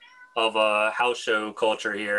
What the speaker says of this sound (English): Cat showed up for you.